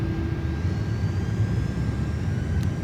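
Airbus A330 jet engines spool up with the throttle pushed forward in Microsoft Flight Simulator 2024 on PS5, a steady low rumble with a faint high whine, continuous and moderately loud with no talking.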